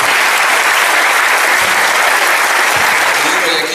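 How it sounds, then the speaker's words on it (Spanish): Loud, dense applause from an audience fills the room as a speaker is welcomed to a talk about North Korea, continuous and unbroken throughout. "dejamos a nuestro compañero Alejandro, al cual recibimos un aplauso grande."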